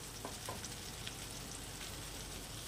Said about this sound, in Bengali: মাছটা কিন্তু মানে মাখনে বাটারে ভাজা হচ্ছে, একদম হালকা আছে ভাজা হচ্ছে